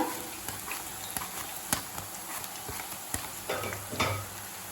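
Sliced raw banana chips drop into hot oil and fry over a medium flame, a continuous bubbling sizzle with soft irregular clacks and taps from the chips and utensil, no talk.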